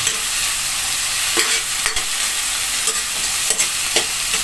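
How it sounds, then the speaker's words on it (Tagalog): Tomato, onion and flaked fried fish sauté in a pan for a vegetable soup, a steady close sizzle with several scraping stirs breaking through at intervals. "igisa muna natin ang kamatis at sibuyas at ang hinimay na piniritong isda para sa ating pampalasa"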